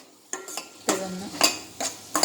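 Vegetables being sautéed for a ragi-vegetable soup, a spoon scraping and knocking against the pan in five or six distinct strokes over a faint sizzle.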